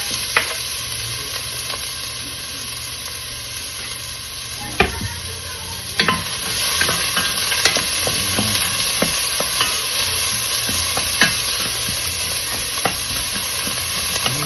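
Onions sautéing in a hot pan, with a steady close sizzle and frying hiss throughout and occasional scrapes and clinks of a stirring utensil, and no talking.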